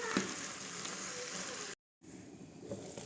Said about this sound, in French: Et je laisse mijoter juste peut-être 2 à 3 minutes